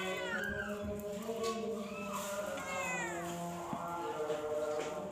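A cat meows repeatedly at close range, a series of rising and falling cries with a few drawn-out yowls, over steady low background noise.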